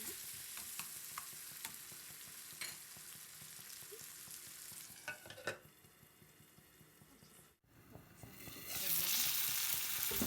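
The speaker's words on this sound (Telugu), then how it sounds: "ఇప్పుడు ఇది 1 నిమిషం ఈ బఠానీ ఆయిల్లో మగ్గనిద్దాం మూత పెట్టేసి" Raw green peas and onions fry in oil in a covered pan, giving a continuous, fairly quiet sizzle with scattered pops and crackles, and a brief bump as the lid shifts before the hiss swells louder.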